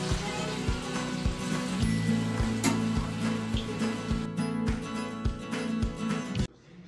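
Coriander vadi crackle in hot oil with a steady close sizzle and regular low knocks, and the sound cuts off abruptly near the end.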